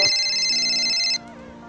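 A phone ringtone in a movie trailer plays a bright, loud electronic melody for about a second before cutting to a quieter tail, heard alone without talk.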